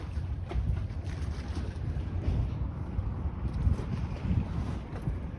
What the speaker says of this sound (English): it's probably the sound of waves crashing